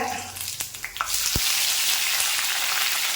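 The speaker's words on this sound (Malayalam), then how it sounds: "എണ്ണ ചൂടായിട്ടുണ്ട്. അപ്പോൾ നമ്മുടെ കടുക് പൊട്ടി" Hot oil crackling and spitting loudly as mustard seeds splutter, a dense steady sizzle with a few sharp pops at the start.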